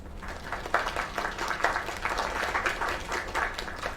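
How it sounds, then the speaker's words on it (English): Steady crowd applause from the video game Lake, a dense wash of clapping held at a moderate level throughout, while faint talk sits underneath. "Another round of applause."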